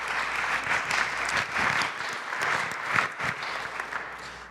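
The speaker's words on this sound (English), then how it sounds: "So let's give a round of applause to the vestry." Church congregation applauding the vestry at an Episcopal church's annual meeting. Many hands clap in a full, swelling round with small peaks and dips, moderately loud across the room.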